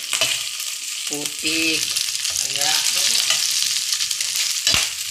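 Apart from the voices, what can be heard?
fish frying and splattering in oil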